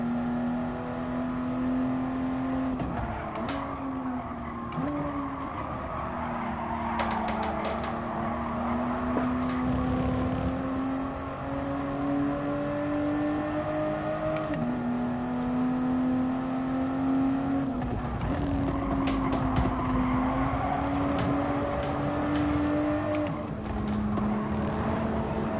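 A Toyota Supra race car engine in the game GT Sport drones steadily at high revs with shifting pitch and brief gear-change dips, loud and continuous, joined by other racing cars.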